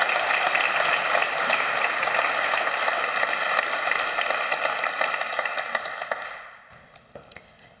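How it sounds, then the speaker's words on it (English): Applause from a summit audience welcoming a lightning-talk speaker, a dense patter of many hands that holds steady and then thins out and fades to a few scattered claps at the end. "Please give a huge round of applause for Katy Alexander."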